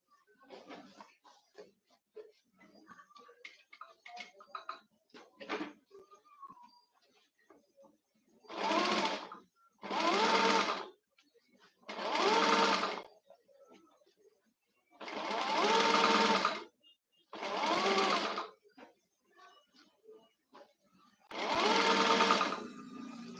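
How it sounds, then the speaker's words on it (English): A sewing machine stitching cap fabric runs in six loud bursts of a few seconds each, separated by short pauses, after a stretch of quiet handling and faint clicks at the start. "Then you are going to sew."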